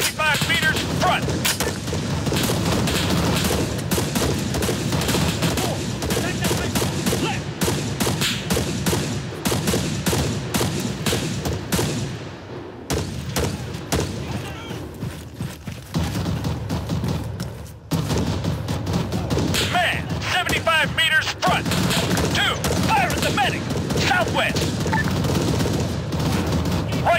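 Arma 3 combat gunfire, sustained bursts of rifle and machine-gun fire with booming impacts, dense and loud almost throughout, a short lull midway, and occasional radio-style voice callouts underneath.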